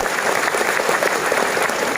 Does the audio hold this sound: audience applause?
yes